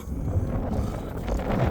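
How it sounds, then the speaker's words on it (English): Wind blows across an outdoor Wyoming ranch where horses and mules are fed, a low steady rumble buffeting the microphone without talk or clear gusts. "Oh, it's windy."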